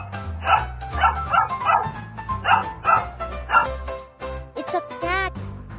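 A small puppy yips and barks repeatedly over a bright musical backing, the barks coming in a quick, fairly loud series before a chime-like flourish near the end.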